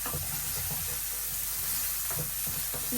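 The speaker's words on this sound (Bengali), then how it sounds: "তেল দিয়ে দিলাম আর যে পেঁয়াজ কুচি দিয়ে দিলাম" Chopped onion frying in hot oil, a continuous loud hissing sizzle close up, with soft scraping of a spatula stirring through it and no speech.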